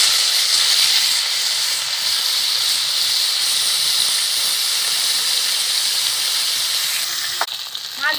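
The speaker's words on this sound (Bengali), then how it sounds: "তেল গরম হয়ে গেছে, মাছগুলো দিয়ে দেবো তেলের মধ্যে।" Hilsa fish frying in hot mustard oil in a kadhai gives a loud, steady, close sizzling hiss that runs unbroken throughout, with a brief crackle near the end.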